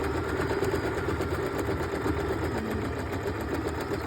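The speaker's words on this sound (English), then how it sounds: "that will automatically put the machine in reverse, and all we need to do is just keep sewing until we get to that start point again" A sewing machine stitches a buttonhole in reverse, its motor running in a steady, even mechanical whir with a fast rhythmic needle clatter throughout, close and moderately loud.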